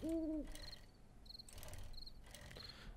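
A bird hoots in the snow biome of the survival video game 7 Days To Die: one short, loud two-tone call at the start, then fainter chirping and insect-like buzzing over a low ambient wind bed.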